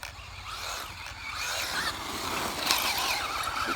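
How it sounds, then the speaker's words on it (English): A Traxxas Slash 2WD RC truck spins out under too much throttle, a high whining electric motor with tires squealing and scrabbling over track dirt, moderately close and continuous, ending in a sharper screech. "She'll still spin out if you give her too much throttle."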